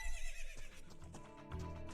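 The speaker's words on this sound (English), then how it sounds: "now we're gonna call our horse once again" A horse from the video game Ocarina of Time gives a short whinny with hoofbeats, loud and brief, over a faint game background.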